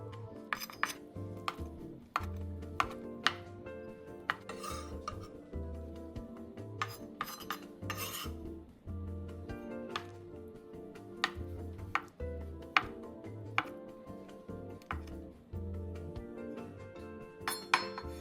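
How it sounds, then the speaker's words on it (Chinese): A knife chops dried tofu into small dice-sized cubes on a cutting board, with repeated sharp knocks in uneven bursts and occasional clinks of the blade, close and fairly quiet. "将豆干切成丁状"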